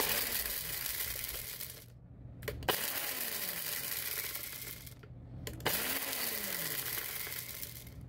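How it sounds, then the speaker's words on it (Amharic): A blender grinds a spoonful of whole cloves, a steady coarse whir with rattling bits, broken by two brief pauses before the motor restarts, close and alone without talk. "አንድ ማንኪያ ቅርንፉድ አድርጌያለሁ። እሱን በደንብ አድርገን እንፈጨዋለን።"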